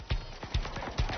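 A cart horse's hooves clip-clop on a hard road in a steady, even trot, four crisp, close hoofbeats in just over a second.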